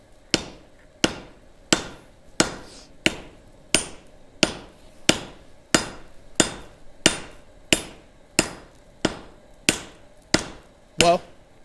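Hammer forging and tapering hot steel on an anvil beside a gas forge, with sharp ringing blows struck at a steady pace of about one per 0.7 seconds, close and loud and continuing throughout.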